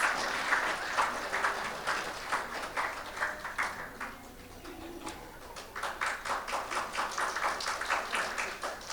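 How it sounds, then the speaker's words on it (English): An audience at a concert gives a round of applause for an ensemble of violinists, a cellist and a pianist, with rhythmic clapping that dips briefly midway and then swells again, near and lively. "Please give them a round of applause."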